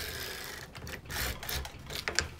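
Circular sock knitting machine working rows of a split-ring flat cast-on bonnet, giving a quiet, rapid mechanical clatter of needles and cams in uneven bursts, fairly faint and close, with no talking.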